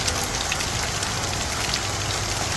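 Heavy rain pours down hard during a flooding downpour, a dense, loud and unbroken roar of drops with no voices.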